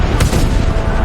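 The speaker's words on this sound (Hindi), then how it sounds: "जनरल आर डायर ने सारे निहत्थे लोगों पर गोलियां बरसा दी।" Gunfire from soldiers firing on an unarmed crowd, rendered as a dense, loud burst of booming shots that fills the whole moment.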